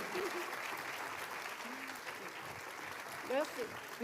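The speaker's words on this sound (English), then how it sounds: "Let's give them a round of applause for the amazing work that they've done" An audience at a fashion show claps continuously in a dense, steady wash of applause, with a few voices and a short cheer rising near the end.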